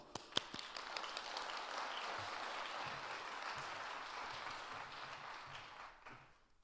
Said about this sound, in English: Let's all clap it for Dr. Dennler.